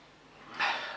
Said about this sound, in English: So let's have a sniff.